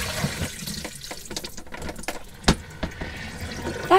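Water drains from the bottom holes of a washing machine tub in an unsteady splashing gurgle, with a few sharper drips and knocks, moderately close.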